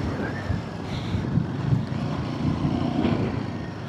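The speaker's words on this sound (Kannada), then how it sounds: "ಸಖತ್ತಾಗಿ ಗಾಳಿ ಬೀಸ್ತಾ ಇದೆ." Strong wind roars against the microphone during an off-road group ride on a Himalayan 450 motorcycle to Ambaji Hills. A steady, dense rumble of buffeting air continues throughout, with no talking.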